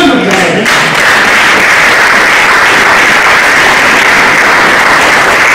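A church congregation breaks into loud, sustained applause at a worship service, the dense clapping filling the room steadily after a brief voice at the very start.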